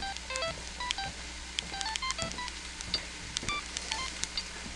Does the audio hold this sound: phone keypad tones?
yes